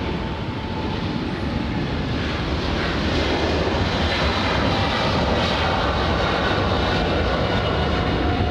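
A Boeing 777 airliner at LAX airport gives off a loud, sustained jet engine roar that stays steady and broad throughout, heard alone without voices.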